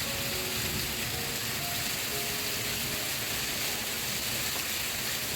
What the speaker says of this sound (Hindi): आवाज़ से ही आप लोग सुन पा रहे होंगे, बहुत ज़्यादा तेज़ बारिश।